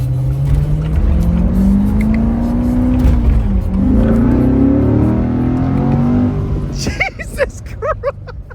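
A Chevrolet Corvette's engine, heard from inside the car, pulls hard with a loud rising drone that climbs steadily through the gears, then backs off near the end, with people talking over it.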